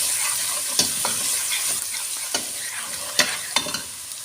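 Onions and garlic sizzle in a pan for a spinach and potato curry, giving a steady broadband hiss with a few sharp spoon clicks and scrapes scattered through it, close and continuous with no talking.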